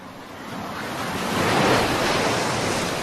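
Ocean waves breaking off the coast of Madagascar in the Indian Ocean, a steady broadband surf roar that swells toward the middle, with some wind noise and no voices.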